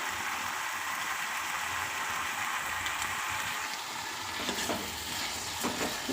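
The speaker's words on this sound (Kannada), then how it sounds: "ಈಗೆಲ್ಲ ಫ್ರೈ ಆಗ್ತಾಯಿದೆ ಇದು ಆಯಿಲಲ್ಲಿ" Turkey berry gojju ingredients fry in hot oil, a constant hissing sizzle close by with faint stirring scrapes building toward the end, no voices.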